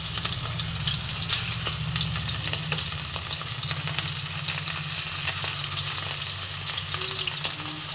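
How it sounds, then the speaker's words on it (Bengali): Fish fries in hot mustard oil with a dense, continuous crackling sizzle that stays loud and even throughout, joined by a low steady hum underneath. "মাছগুলো আমি আস্তে আস্তে ভেজে নেব।"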